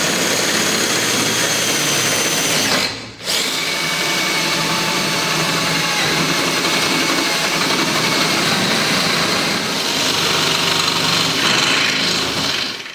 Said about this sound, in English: I don't have a 3/4 inch bit. That's not 3/4 inch. I'm going to drill it half.